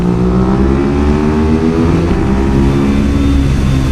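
A motorcycle engine runs loud and close with a steady, rough harmonic drone, pitch shifting slightly as it revs and settles, with no talking.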